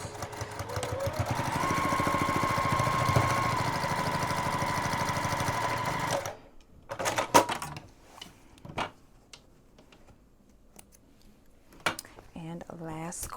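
A sewing machine stitches the corner and handle of a boxy bag, running as a steady, close motor hum for about six seconds, then stopping, followed by scattered quieter handling clicks and rustles.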